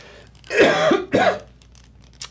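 Two harsh, close coughs in quick succession, loud and raspy, while eating a very spicy candy powder, followed by quiet breathing.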